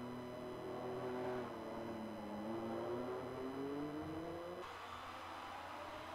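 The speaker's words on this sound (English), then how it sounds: "He's doing donuts, trying to get back into the track again." A race car spinning in donuts during a PS4 short-track racing game, its engine whining and rising and falling in pitch as it circles, fairly quiet and steady with no talking.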